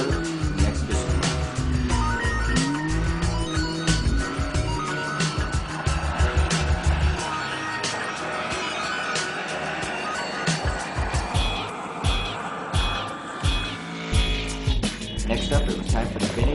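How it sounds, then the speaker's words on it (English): A 2005 Ford Explorer in the exhibition class climbing the Pikes Peak hill climb course, its engine revving loudly and steadily up close with rising and falling pitch and brief tire noise, with no talk. "drove the 2005 Ford Explorer in the exhibition class"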